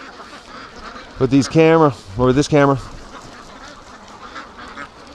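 Muscovy ducks quack in two loud, drawn-out bursts near the middle of the clip, close by on a duck-raising homestead, with someone talking faintly before and after.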